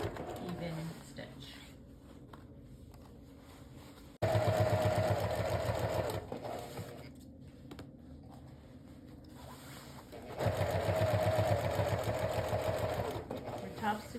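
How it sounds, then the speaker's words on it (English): A sewing machine top stitching a folded-over comforter, its motor whirring in close, loud continuous bursts separated by short pauses, with a person talking through much of it. "We're doing a top stitch, and we're holding the fabric taut as we're sewing."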